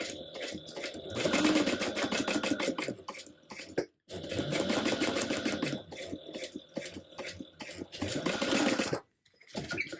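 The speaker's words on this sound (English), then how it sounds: "we're going to sew with a 3/8 inch seam allowance." A domestic sewing machine stitches a tote bag seam in three long loud runs of rapid, steady needle chatter, each broken by brief pauses, close to the microphone with no talking.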